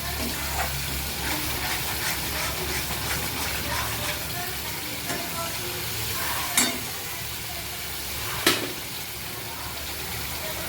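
Chili powder and spices frying in a pan, a steady hiss of sizzling oil with faint stirring and two sharp knocks of a utensil against the pan.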